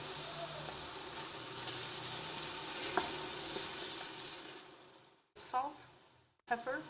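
Grated ripe tomato sizzling steadily in a hot pan for an Algerian vegetable stew, a soft continuous crackle that stops abruptly near the end, broken by a couple of brief clatters.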